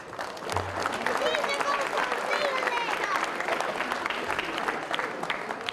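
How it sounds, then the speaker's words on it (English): An audience at a 2019 IFC final presentation gives a round of applause for a sponsor, a continuous patter of clapping with some voices and chatter mixed in throughout. "So just like to give a round of applause to Tracy"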